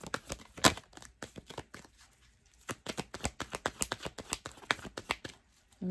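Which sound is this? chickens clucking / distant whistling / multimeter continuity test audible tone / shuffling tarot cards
shuffling tarot cards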